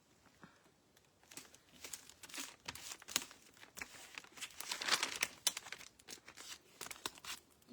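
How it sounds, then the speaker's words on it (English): Adhesive tape pressed and smoothed over a small paper flower craft, giving a run of close, crisp crinkles and sticky crackles with brief tearing bursts, steady and fairly soft, no talking. "Then I just put another piece of tape over the top."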